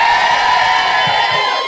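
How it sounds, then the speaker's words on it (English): Women in a comedy club audience let out a loud, high-pitched collective cheer with whoops, the sustained shriek fading slightly toward the end. "ladies, can you give me a cheer?"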